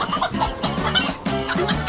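Hens cluck near their coop in a steady run of short, repeated clucks that sound fairly close and loud over a busy farmyard background.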